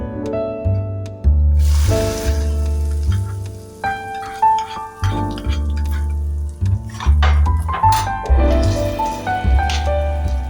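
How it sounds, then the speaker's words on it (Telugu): A hot tempering of spices sizzles briefly as it goes into gongura chutney, followed by scraping and stirring sounds as it is mixed in, close and fairly loud. "ఇప్పుడు తాలింపు దీంట్లో వేసుకుందామండి."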